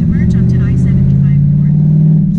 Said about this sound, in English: Sorry for the noise, just that loud American muscle.